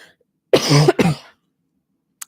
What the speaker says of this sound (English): I've had this lingering cough for 4 weeks